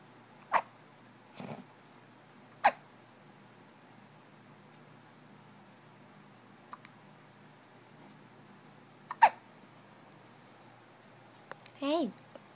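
Several short, sharp hiccups sound at irregular intervals in a quiet room, close to the listener, ending with a brief soft vocal sound.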